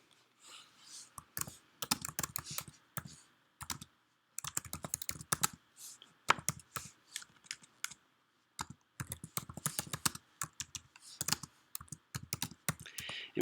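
Typing on a computer keyboard close up, clusters of quick key clicks in uneven bursts separated by short pauses, with no voices.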